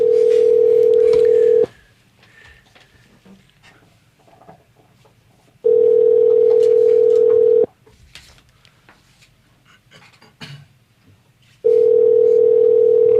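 An outgoing phone call rings back with a steady electronic tone in loud bursts of about two seconds, repeating three times with quiet gaps of light room noise between them.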